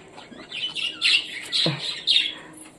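Budgerigar chicks give a run of thin, squeaky chirps and short squawks in quick succession, close by and fairly quiet.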